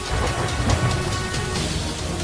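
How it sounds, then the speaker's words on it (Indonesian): Heavy rain pours steadily in a dense, loud hiss, with low rumbling thunder rolling underneath throughout, and no voices. "Hujan datang dengan derasnya."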